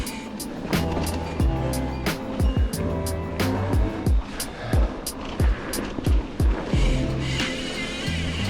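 A 2021 Yeti SB69 mountain bike with SRAM parts and Maxxis tires ridden on a trail: steady tire roar and drivetrain rattle with repeated sharp knocks and clunks from bumps, close up, with occasional wind buffeting.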